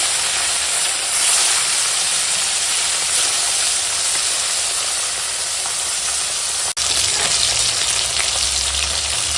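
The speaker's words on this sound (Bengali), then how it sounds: "বাকি মাছ কাটাও ভেজে নিই" A pan of fish pieces sizzles vigorously in hot oil, with a dense, even crackling hiss that runs throughout and a single sharp knock partway through.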